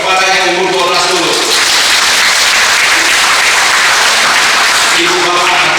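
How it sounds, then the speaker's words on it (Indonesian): Audience applause at a talk by Joseph Masri, steady, loud and dense, filling the whole stretch without a break, with crowd voices mixed in at the start. "Kita beri tepuk tangan kepada yang umur 12 dulu."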